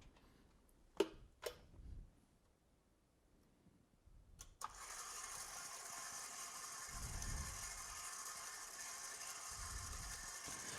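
A few sharp clicks and taps come first, then an electric mixer switches on and keeps up a steady whirring drone as it beats cream cheese for a cheesecake, with no talk.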